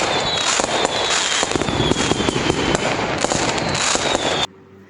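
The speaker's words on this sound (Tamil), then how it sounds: "பட்டாசு." Rapid, loud bursts of firecrackers popping in a dense crackling string, ending abruptly and leaving quiet.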